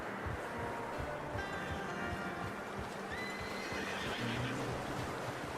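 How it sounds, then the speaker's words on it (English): A horse in the video game Red Dead Redemption 2 whinnies in a long, wavering neigh over a busy outdoor backdrop, with hoof clops and rustling underneath. "How's that new horse?"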